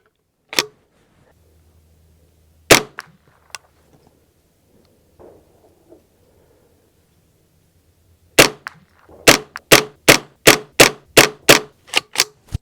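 Ruger 10/22 .22 rifle firing at an NRL22 match course: a few spaced sharp cracks early, then a rapid string of about nine evenly paced shots, close and loud.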